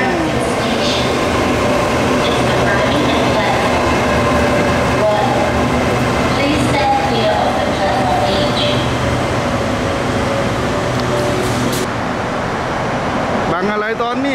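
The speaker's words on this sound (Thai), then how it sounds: "รถไฟมาแล้วนะครับเราสายสีแดงก็มาพอดี" Red Line commuter train pulling into a station: a loud, steady rumble and rolling wheel noise fills the whole span, with brake squeal and screeching rising near the end, and some background voices mixed in.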